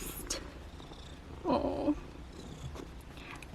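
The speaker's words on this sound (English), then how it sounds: "So when a cat is stressed, they might purr as well" A stressed Ragdoll cat purrs at a vet visit, a faint low rumble close to the microphone with a brief louder vocal burst midway, and a person briefly speaks.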